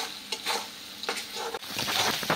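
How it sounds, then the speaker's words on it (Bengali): Shrimp, onion and green chili sizzle in frying oil as a close, hissing crackle, broken by repeated stirring scrapes in a quick uneven rhythm. "তেলের সাথে পেঁয়াজ এবং চিংড়ি মাছটা কাঁচামরিচ ভালোভাবে ভাজা হয়ে গেছে"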